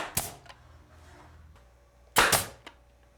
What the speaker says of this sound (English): attaching it to the corner blocks and bottom edge of the ledger with a nail gun